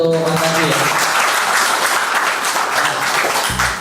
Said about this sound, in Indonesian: Boleh tepuk tangan sekalian untuk Mas Andi